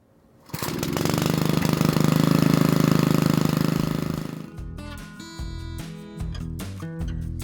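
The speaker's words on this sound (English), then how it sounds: "When you use a mechanical brush like this one is a Westerman" A loud, steady mechanical roar of a Westerman powered brush grinding over tarmac, then the engine note shifts and pulses unevenly near the end.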